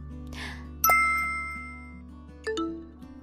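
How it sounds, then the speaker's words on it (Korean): A doorbell chimes at a home in the evening with two clear ding-dong tones, one loud strike followed by a second softer chime over a low background hum, and nobody speaking. "누가 이 시간에 초인종을 누르는 거야?"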